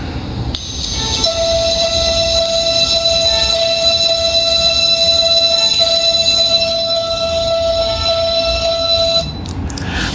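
A wireless doorbell set to its loud volume plays a sampled MP3 chime, steady sustained electronic tones ringing for about eight seconds at close range with a hum underneath, then cutting off.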